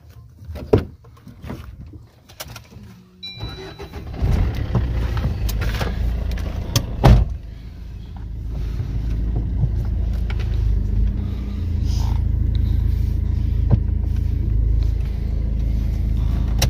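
A car engine turns over, a door thumps, and the vehicle pulls away, settling into a steady low rumble of driving with occasional clunks and clicks from inside the cabin; no speech.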